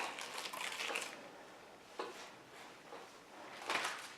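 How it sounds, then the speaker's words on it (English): A stencil peels away from a wood sign in a few short tearing, crinkly bursts of sticky plastic lifting off, quiet and close, separated by brief pauses. "Then while it's still wet, you want to take your stencil off. Just pull that bad boy up."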